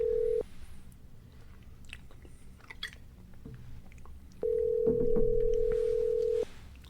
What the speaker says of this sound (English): Ooh, it's ringing.